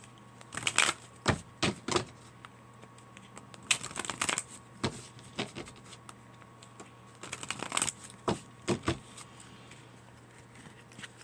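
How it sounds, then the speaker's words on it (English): Tarot cards are shuffled in repeated quick riffling bursts, close and crisp, with short pauses between each shuffle. "we'll give this a good shuffle here"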